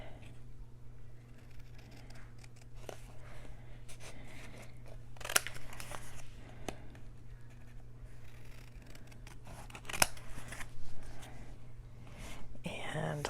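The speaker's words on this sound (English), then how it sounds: "these are my cutter bee scissors" Cutter Bee craft scissors cut paper while a mini album is being made, giving a few quiet, crisp snips over a steady low hum and faint background murmur.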